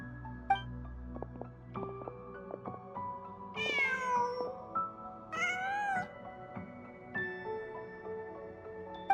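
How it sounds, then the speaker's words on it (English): A cat in the video game Genshin Impact meows several times over soft background music and ambience, with clear, close, high-pitched calls that rise and fall, one near the middle of the passage and one toward its end. "Just a cat."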